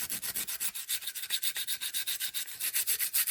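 A Scotch-Brite pad scrubs paint off an RC truck part in quick, steady back-and-forth strokes, a close, raspy rubbing rhythm with no voices.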